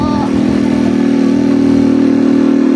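A motorcycle engine labours uphill on a mountain trail, a loud, close, steady mid-pitched drone that strains and rises slightly as it climbs, with a brief voice early on.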